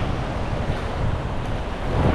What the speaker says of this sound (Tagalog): malakas yung hangin ngayon